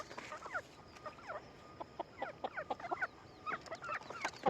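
Several chickens cluck and call in quick, irregular bursts, fairly close, with overlapping clucks and no talking.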